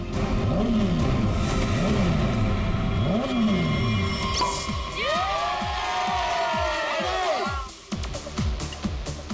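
Motorbike engines rev loudly at the start of a race, with repeated rising and falling whines that climb into a sustained high-pitched roar. Crowd noise and voices run underneath.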